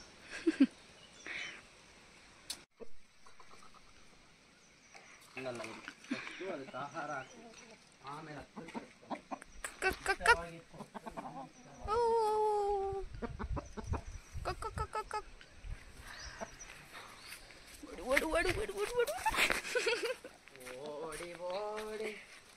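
Hens clucking in short, irregular bursts at moderate distance in a village in Pavagada, mixed with other farmyard bird calls and someone talking over parts of it.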